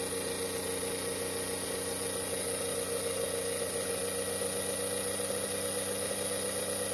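A freshly reinstalled electric motor in a race chassis runs with a steady, even whirring hum and a constant high whine, unbroken for several seconds, with no voices.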